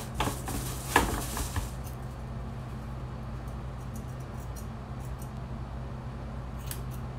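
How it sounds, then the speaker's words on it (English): Scissors snip split ends of hair at home, a quick cluster of soft crisp cuts at the start followed by quiet background, with a few faint scattered clicks later. "just trimming up the little other split ends that I see in my hair"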